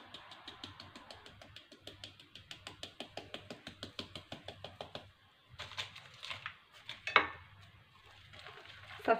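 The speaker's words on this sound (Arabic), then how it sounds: "صافي نخلط الخليط ديالي" Semolina dough is mixed in a bowl with quick, rhythmic clicking and scraping strokes, faint and close, followed by a few louder knocks.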